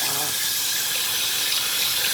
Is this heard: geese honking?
no